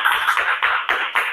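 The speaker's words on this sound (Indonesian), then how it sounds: "Kita beri tepuk tangan untuk kelompok bunga sepatu." A classroom of children claps together for a group in a steady rhythmic pattern, five loud close bursts of hand claps in quick succession.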